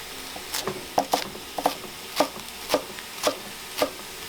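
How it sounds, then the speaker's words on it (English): A knife chops bok choy on a cutting board in about eight crisp, evenly spaced strikes, close and fairly quiet, with faint sizzling from beef in a wok behind. "The bok choy, I'm just gonna cut the end, discard it"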